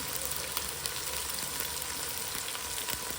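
Chicken fries in hot oil with ginger as mint is added, producing a loud, continuous sizzle with scattered pops and light stirring scrapes close by.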